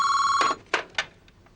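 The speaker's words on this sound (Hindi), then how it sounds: "Let me pick up the phone." A telephone rings in an indoor drama scene: a sustained electronic bell tone that cuts off, followed by two short clicks or taps, with no talking.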